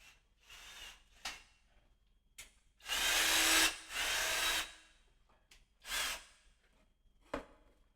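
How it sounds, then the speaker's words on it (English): A power drill whirs in several short bursts at a guitar-building workbench, two longer runs in the middle, with quiet breathing and small clicks between them. "Got to get the drill out."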